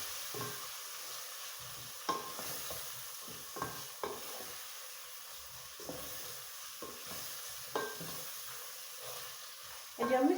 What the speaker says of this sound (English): And you are going to stir your meat.